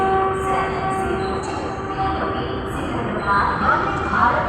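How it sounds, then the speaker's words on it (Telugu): A train at Guntur railway station, with a steady rumbling drone and high tonal squeals or horn-like tones running throughout, close and fairly loud, and people talking. "Guntur railway station"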